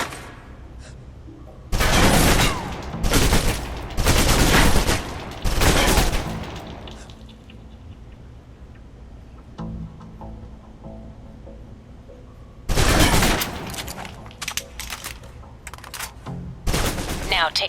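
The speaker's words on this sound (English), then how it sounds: "Now, let's move on to the submachine gun. Now let's empty the clip." A submachine gun in the Alpha Protocol video game is fired at a target, emptying the magazine in several loud, rapid bursts separated by quiet pauses, with a final longer string of shots near the end.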